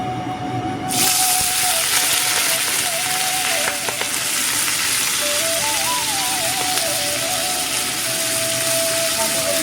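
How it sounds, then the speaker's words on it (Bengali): Cabbage dropped into hot oil for a vegetarian jackfruit biryani sizzles in a steady, dense hiss that starts abruptly and carries on close and loud, with a faint tonal whine running underneath. "তেল গরম হয়ে গেছে, এবারে আমি বাঁধাকপি দিয়ে দিচ্ছি"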